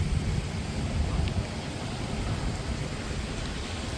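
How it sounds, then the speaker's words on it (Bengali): Steady heavy rain pours down in a dense, continuous hiss with a low rumbling undertone, unbroken from start to finish. "ভালো জোরে বৃষ্টি পড়ছে রে"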